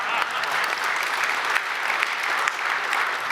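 Audience applause at a press conference for the Phase 3 grand opening of Salt Lake City International Airport: steady, dense clapping from a crowd, fairly loud and close, filling the moment alone.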